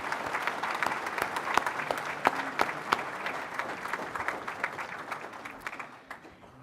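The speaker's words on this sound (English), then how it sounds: "Let's give them a round of applause, please." Crowd at a college commencement applauding graduates, a sustained wash of many hands clapping with sharp individual claps standing out, fading toward the end.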